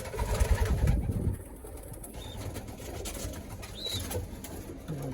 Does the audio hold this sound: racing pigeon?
yes